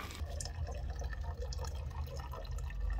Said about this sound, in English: So I'm filtering the water down to another bottle